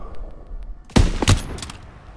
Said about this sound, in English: I was shooting some Germans